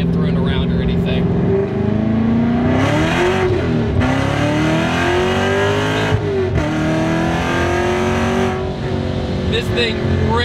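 A 550 hp supercharged C7 Corvette accelerates hard from inside the cabin, its engine note climbing through several gears with short dips at the shifts and a loud, constant roar.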